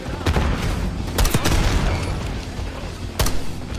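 Gunfire in Call of Duty Black Ops 6: loud bursts of shots and heavy booms punctuate a rumbling battle din, with sharp volleys near the start, middle and end.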